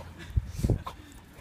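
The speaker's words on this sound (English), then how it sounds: "Hey, just don't bark all day." A young dog at a puppy park gives a couple of short, soft yips and whimpers close by, faint and brief, with quiet background noise.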